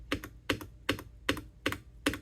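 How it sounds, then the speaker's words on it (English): Space bar on a Keychron C2 full-size wired mechanical keyboard pressed five times at an even pace, each a close, crisp clack with a short second click on release, with no other sound. "Now let's do a sound test real quick of the space bar."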